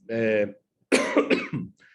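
A man with a head cold coughs once, a sharp harsh burst, then after a short pause gives a longer rough cough with throat clearing, close and loud in a quiet room.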